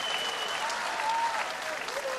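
Audience applause after a youth choir performance at an outdoor city event, a steady wash of clapping from a crowd with a faint voice audible under it.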